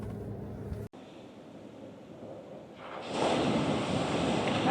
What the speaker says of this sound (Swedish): Här var det rejäla vågor kan man ju säga.